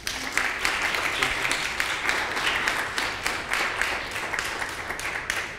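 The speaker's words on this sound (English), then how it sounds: "please join me in a warm round of applause for Professor Adrian Paul" Warm round of applause from a seminar audience for a university professor of international relations, steady dense clapping throughout with no talk over it.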